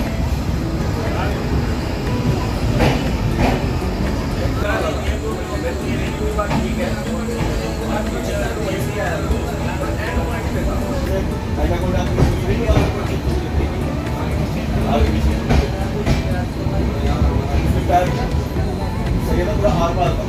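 The Kota Weekly SF Express pulls out of Udhampur railway station, a steady close rumble of wheels and carriages with faint rhythmic clatter running throughout, under a continuous background murmur.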